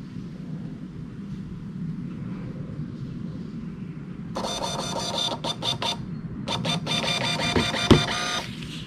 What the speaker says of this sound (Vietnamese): Mình sẽ in thử một tờ nữa cho các bạn xem nha.